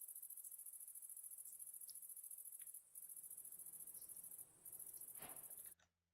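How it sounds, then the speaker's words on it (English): Steady, loud cricket chirping from a Minecraft world fills the scene as a continuous high trill, with a brief pause near the middle and a cut-off just before the end. "Turn down the crickets. They're"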